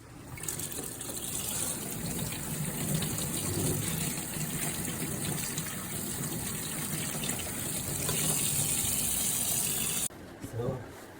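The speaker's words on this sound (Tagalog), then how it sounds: "So hugasan ko lang muna." Saba bananas, a small cardaba variety, washed under a running kitchen tap: a steady gush of water splashing for about ten seconds, then cutting off abruptly near the end, with faint handling noises.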